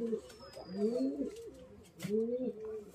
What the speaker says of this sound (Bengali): ফুলশিরা কবুতর খুবই সুন্দর কোয়ালিটির কবুতর দেখতে পাচ্ছেন